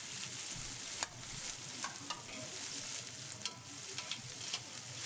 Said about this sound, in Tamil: புதினா, பச்சை மிளகா, மல்லி, இது 3ஐயும் அது கூட ஆட் பண்ணி லைட்டாக வதக்கிக்கோங்க.